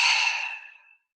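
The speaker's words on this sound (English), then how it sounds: "and breathing out." A slow, deep breath out during a guided breathing exercise, a soft airy exhale that starts full and gradually fades away over about a second, alone with no talking.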